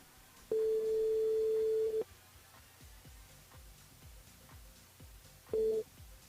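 A telephone line tone sounds during a call to a radio listener on a French radio station: one long steady tone lasting about a second and a half, then a shorter repeat, with faint ticking line noise between.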